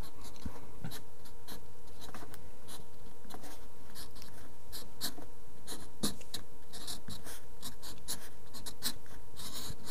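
A pencil sketches a quick Superman drawing on paper, with dense, rapid scratchy strokes in an irregular rhythm, steady and close throughout with no talk.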